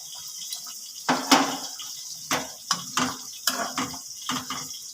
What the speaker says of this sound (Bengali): এবার দিয়ে দেব এই নারকেলের দুধটা